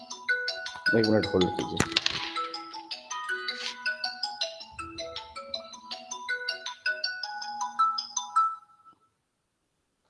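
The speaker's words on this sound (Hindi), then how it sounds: "एक मिनट, HOD मैडम का फोन आ रहा है" A mobile phone ringtone plays a bright, looping electronic melody for about nine seconds, taking the place of an incoming call, then stops abruptly. Someone speaks briefly over the start of the tune.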